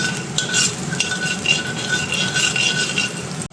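Paneer curry fries in butter in a kadai, sizzling steadily while a utensil stirs and scrapes against the pan in repeated close strokes.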